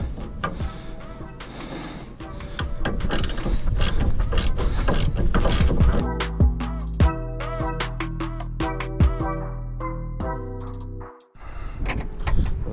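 Large adjustable wrench working bolts loose on a 1974.5 MG MGB bumper, giving a run of close metallic clicks, clanks and ratcheting rattles, with a denser stretch of mechanical noise at the start and sharper taps later.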